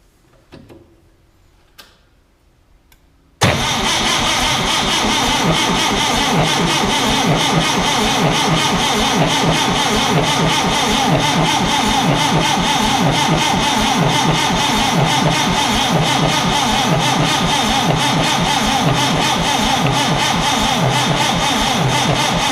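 A forklift engine struggling to start: after a few quiet seconds with faint knocks, the starter engages and a loud, steady cranking and churning drone runs on without pause, close by.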